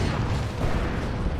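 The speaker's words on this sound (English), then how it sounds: "With a Venom Cannon shot." A Venom Cannon fires in Dawn of War 2 as a dense, rumbling boom within a loud, continuous battle din, with no distinct gaps or separate impacts.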